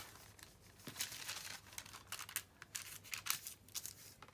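Journal paper is folded over and handled, giving soft, irregular crinkling and rustling bursts close up and fairly quiet, with no voices.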